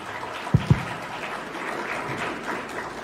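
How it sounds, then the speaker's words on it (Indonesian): An audience applauds Anies Rashid Baswedan at a talk at ITB, with a steady, moderately faint wash of clapping and two brief thumps near the start. "sama-sama kita berikan aplaus yang meriah untuk Bapak Anies Rashid"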